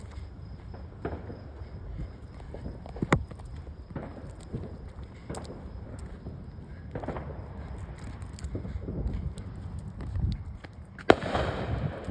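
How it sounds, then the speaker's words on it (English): Scattered Fourth of July fireworks pop and bang at a distance, irregular and sharp, with one louder crack near the end over a quiet background. "The whole town's celebrating tonight"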